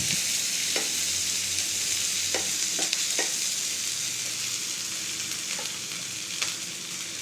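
Yellow capsicum and other vegetables frying for fried rice in a pan, with a steady hiss of sizzling broken by several sharp scrapes and clinks of a spoon stirring against the pan.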